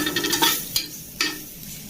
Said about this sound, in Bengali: মশলা আর এগুলো সব ভাজছি।